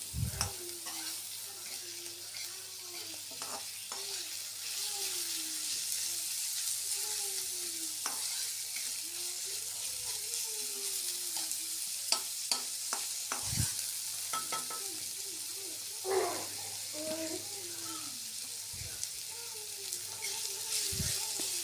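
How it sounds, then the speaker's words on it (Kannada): Onions, green chilies and coriander leaves fry in a pan for egg bhurji, with a soft continuous sizzle and occasional spatula scrapes and knocks, close and fairly quiet. "ಮೆಣಸಿನ್ಕಾಯಿ ಕೊತ್ತಂಬರಿ ಸೊಪ್ಪು ಅದನ್ನು ಹಾಗೇನೆ ಹಾಕಿ ಫ್ರೈ ಮಾಡಬೇಕು"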